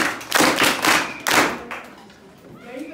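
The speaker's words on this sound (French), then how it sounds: "Applaudissez pour l'autre." A group at a military school in Bukavu claps briefly, a few loud, close bursts of hand clapping and thumps over about a second and a half, then fading into quiet room sound with faint voices.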